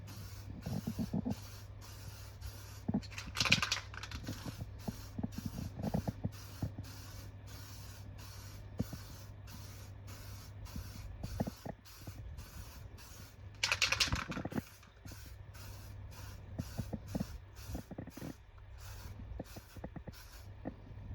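A rattle-can spray paint coats a Harley Benton DIY guitar kit with a near, steady hiss. Two louder bursts of spraying stand out against a low hum and scattered light clicks, with no voices.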